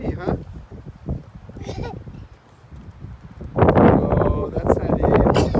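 Wind blows outdoors, buffeting the microphone in gusts with a strong rushing burst near the end, while a child and an adult talk nearby.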